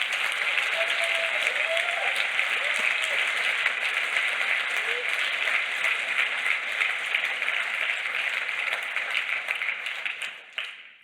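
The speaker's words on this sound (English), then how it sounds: "a way that we can give them a round of applause" Sustained applause from an audience at the closing of the Ubuntu Summit 2023 tech conference, steady dense clapping for about ten seconds before tapering off at the end.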